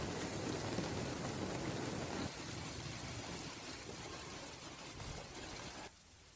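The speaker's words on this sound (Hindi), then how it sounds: "तेज बारिश के साथ ओलावृष्टि भी हुई है" Heavy rain with hail pours down in Dausa, Rajasthan, a loud, dense continuous roar of drops striking surfaces that eases slightly partway through and drops lower near the end, with no voices.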